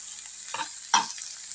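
Chow mein noodles for egg chow mein drop into a frying pan and are stirred, making two quick scraping, hissing bursts over a faint, quiet sizzle.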